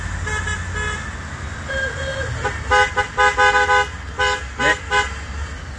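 Car horns honking repeatedly along a road during a long bike ride, with short toots in bursts over road and traffic noise, and a brief word spoken.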